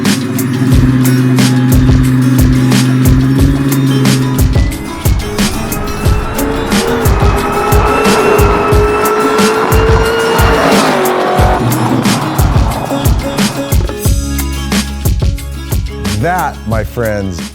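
A 760 hp supercharged 1969 Chevelle, garage-built, launches and accelerates hard close by. Its engine roars loudly as the tires squeal and skid, then the sound sweeps and fades toward the end.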